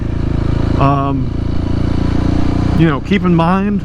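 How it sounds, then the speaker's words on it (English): A Honda CRF300L motorcycle runs with a new exhaust and no baffle inserted, a loud, steady thumping idle with someone talking over it. "the first time I started the bike with the new exhaust was without the baffle inserted, and it's loud"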